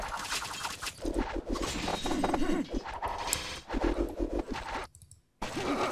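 Horse cavalry army in the Imperium strategy game galloping into battle, dense overlapping hoofbeats with whinnies, clashing combat sounds and a short near-silent gap before the charge resumes.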